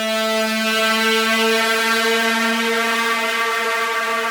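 A single sustained, buzzy resampled string synth tone held steadily with rich bright harmonics, loud and alone without any talking.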